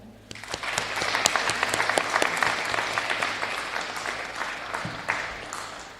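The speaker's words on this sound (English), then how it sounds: "join me in a round of applause for all of our cadets and our leaders" A high school gymnasium crowd applauds Space Force JROTC cadets and their leaders at a ceremony, clapping swelling quickly then holding steady with a few sharp individual claps standing out before trailing off.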